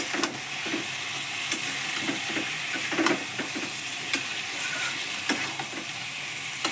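Paneer added to a pan of frying curry with peas sizzles steadily and close by, with scattered clinks and scrapes of stirring over a constant hiss.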